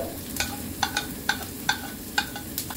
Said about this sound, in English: Add oil in the pan. Saute garlic,